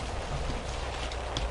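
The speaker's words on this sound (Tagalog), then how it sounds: "Nagasugod na sa pagtupa ang ulan." Steady, even hiss of rain falling, a constant wash of sound with no voices.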